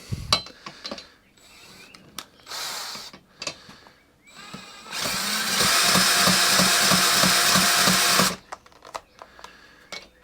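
A cordless drill spins the engine of a Honda HHH25 hedge trimmer with a broken pull cord, giving a loud, steady mechanical whirr with a rapid ratcheting pulse that runs for a few seconds between softer clicks and handling noises.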